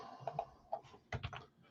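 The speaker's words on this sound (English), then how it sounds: "Let me finish typing." Quiet typing on a computer keyboard: a short run of soft, irregular key clicks with a couple of small clustered bursts, close by and without talk.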